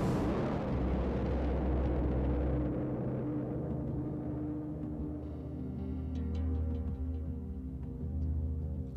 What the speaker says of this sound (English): shoot gas tanks